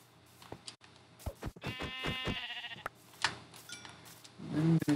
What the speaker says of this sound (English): So what I'm gonna do is I'm gonna kill this sheep.